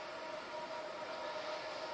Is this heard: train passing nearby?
yes